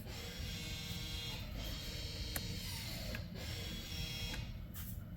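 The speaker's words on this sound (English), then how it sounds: "we can audibly hear the parking brake going back into its normal position" A faint mechanical whirring hum of a Ford's electronic parking brake motor resetting runs steadily, with a few light clicks, quiet and close against low background noise.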